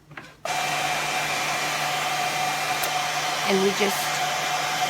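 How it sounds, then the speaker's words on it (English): A blow dryer roars on abruptly and runs in a steady close whine, warming the frozen water tank of a GE refrigerator dispenser assembly, with brief speech and faint knocks over it. "So we took a blow dryer"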